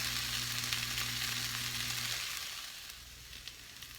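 Potatoes and onions frying in a pan make a dense, close sizzle that eases off and softens in the second half, with no voices.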